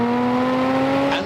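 Jaguar F-Type's engine bellowing as the throttle is opened, a loud, sustained near drone holding a steady pitch for a brief moment.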